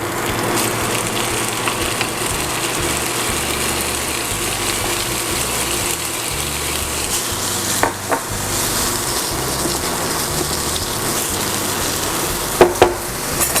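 Spinach fries in butter in a pan, a steady loud sizzle running throughout, with a few sharp clinks and scrapes of stirring now and then.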